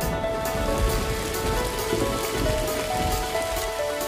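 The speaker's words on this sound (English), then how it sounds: "Oh, it started raining." Steady rain patters on a hard surface with dense, continuous drops, loud and close, with no voices.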